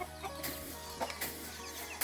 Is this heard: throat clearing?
no